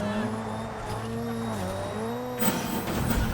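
A car driven in the video game Crackdown 3, with a steady engine drone whose pitch rises and falls through gear changes, then a sharper burst of noise near the end. There is no talk.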